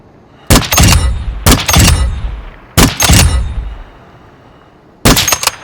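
Sniper rifle shots in Call of Duty DMZ: four loud, sharp reports with brief metallic ringing tails, three within about two and a half seconds and a fourth after a pause.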